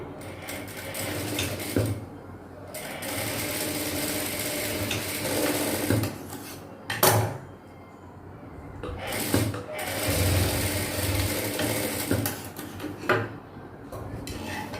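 A sewing machine runs a double line of stitching along a blouse shoulder seam, its steady mechanical whirr broken by brief pauses and sharp clicks as the fabric is repositioned, close and alone without talk.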